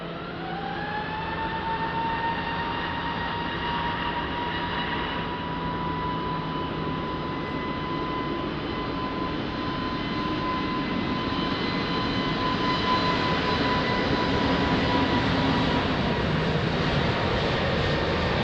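A fixed-wing airliner landing at Lisbon Airport, a loud, sustained jet engine roar with a steady high whine that holds close for the whole stretch, with no talking.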